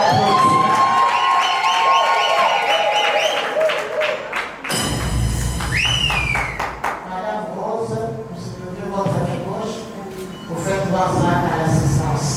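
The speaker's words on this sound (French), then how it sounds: "Applaudissez." Guests at a civil wedding ceremony clap and cheer in a lively crowd, with shouts, whistles and excited voices mixed into the loud, sustained applause.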